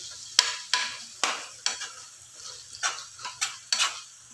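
Close, repeated scraping strokes of a utensil stirring tuna and potatoes in a cooking pan, each stroke a sharp clack against the metal at a steady, unhurried pace with faint sizzling between.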